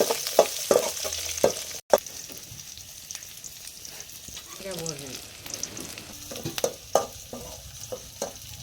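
Onion and chilies sautéing in a pan, a hiss of frying beneath repeated sharp spatula scrapes and taps at an uneven pace, close by, with brief faint background noises and no clear speech.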